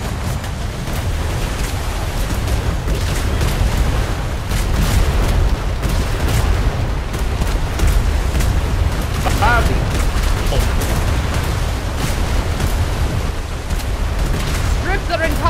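Naval cannon fire rumbles through a first-rate sailing ship battle in a game, a dense, continuous barrage of booms and heavy low rumble with shouted voices mixed in underneath.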